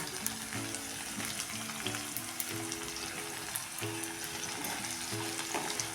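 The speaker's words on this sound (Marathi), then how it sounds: "मसाला टाकून पण चांगलं परतून घ्या" Garlic cloves frying with coarsely ground pickle masala in a pan, a soft continuous sizzle and crackle with light stirring scrapes throughout, fairly quiet and without talk.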